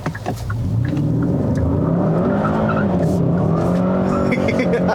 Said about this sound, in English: See how bad it burns out its wheel here.